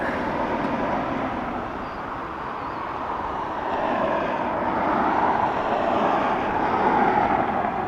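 An Avion Express Airbus A320 arriving from Palma at Dublin Airport, a broad steady jet roar that swells slightly toward the end, no talk.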